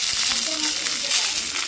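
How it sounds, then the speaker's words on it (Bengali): Bay leaf and whole spices frying in hot oil, a continuous bright sizzle with small crackles, steady and close, with faint voice-like tones underneath. "তেলটা গরম আছে, সঙ্গে সঙ্গে প্রথমে তেজপাতা আস্তে আস্তে সমস্ত মশলাগুলো দিয়ে আমরা ভাজতে শুরু করলাম"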